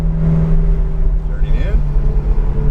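A Ferrari 488 GTB on track at Sonoma Raceway gives a loud, steady, close engine drone that holds a constant pitch, with a brief higher whine rising in the middle.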